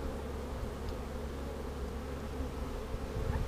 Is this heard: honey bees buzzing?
yes